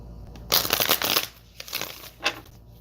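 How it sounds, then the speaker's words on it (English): Tarot cards being shuffled by hand at a card reading party, with a long riffling burst followed by two shorter flutters, close and crisp with no talking. "One more shuffle for Notorious."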